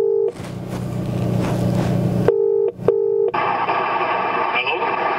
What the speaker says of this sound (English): we're going to need to make a quick phone call in order to see that one